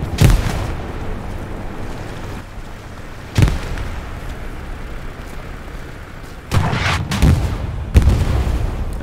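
Grenade explosions in the Hell Let Loose video game during a night anti-tank ambush, a few loud, sharp booms spaced irregularly over several seconds, with low rumbling between the blasts.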